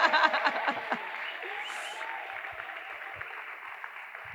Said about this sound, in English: And we need another round of applause for it